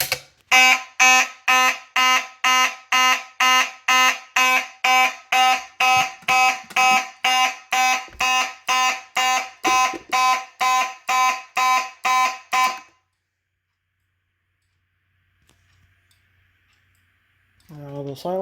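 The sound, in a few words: Simplex fire alarm horn strobe sounding during test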